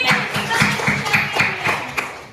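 Classroom applause from sixth-grade pupils during an Islamic religious education lesson, a steady run of claps lasting a couple of seconds at moderate volume, with no talk over it.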